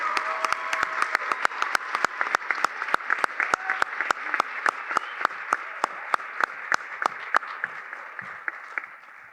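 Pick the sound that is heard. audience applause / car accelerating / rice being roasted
audience applause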